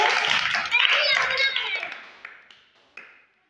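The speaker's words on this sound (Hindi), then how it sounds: "तालियां बजाइए जोरदार।" Children clap together in a village learning centre, a dense burst of applause mixed with talk that thins out into a few scattered claps.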